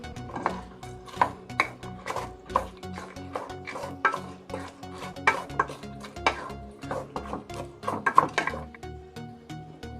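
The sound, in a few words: stirring cabbage and mushroom in a pan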